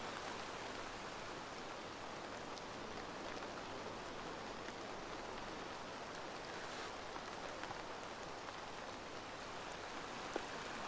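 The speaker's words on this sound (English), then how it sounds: "Gonna sit there in the rain all day, huh?" Rain falls in Assassin's Creed Valhalla as a soft, even patter that stays constant and fairly faint throughout, with no voices.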